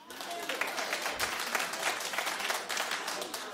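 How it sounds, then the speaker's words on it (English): A talk-show studio audience breaks into fairly quiet but continuous applause, with many hands clapping in a dense, even patter that lasts the whole moment, mixed with some murmured voices. "Clap if you think she looks like her."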